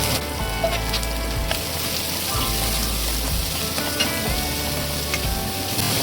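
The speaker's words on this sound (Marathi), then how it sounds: "कांदा चांगला असा जरासा गुलाबी होईपर्यंत परतून घ्यायचा आहे" Sliced onions for a tamarind curry sauté in hot oil, a loud continuous close sizzle with occasional stirring scrapes, without any talking.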